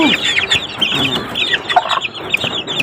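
Chickens cluck steadily among chirping chicks in a rainy farmyard, a mother hen's low calls mixed with high peeping throughout, fairly close and continuous.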